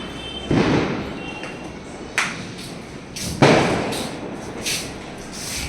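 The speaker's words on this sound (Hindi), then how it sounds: "हम चले गए थे नीचे पटाखे फोड़ने के लिए।" Firecrackers go off during a Diwali celebration: four or five sharp bangs and thuds at irregular intervals, some close and punchy, others fainter, with no talking.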